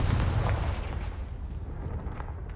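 A Confringo spell explosion in the video game Hogwarts Legacy sounds as a deep, loud boom that fades into a rumbling, crackling decay over a couple of seconds.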